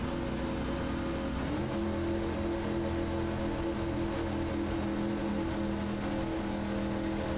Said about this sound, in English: He throttles up. We're back to green flag racing.